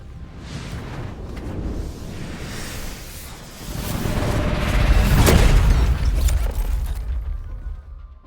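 Antimatter weapon blasts in the game Love and Deepspace: a low rumbling boom builds up and swells to a heavy peak midway, with whooshing and crackling layers, then fades out, no speech heard.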